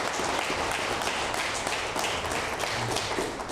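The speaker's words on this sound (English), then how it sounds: "give a round of applause for our poets" Audience applause for poets at a live poetry event, steady dense clapping from a crowd that holds even and fairly loud throughout, with no talk over it.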